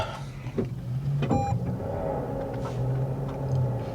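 A hydrogen car powers up with a low electric hum, a short mechanical clunk and a high whine, followed by a steady, quiet droning rumble while the cabin stays free of speech.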